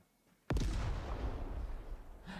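A grenade blast in the shooter game Sophonce, one sudden loud boom followed by a long, rumbling decay with no speech.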